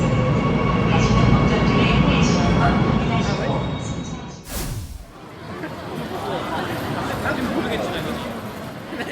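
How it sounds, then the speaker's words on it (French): Seoul Metro Line 4 subway train riding along with a steady loud rumble and hum, a passing whoosh near the middle, then continued rolling clatter with a murmur of passengers in the background. "embarquons sans plus tarder dans la ligne 4 du métro"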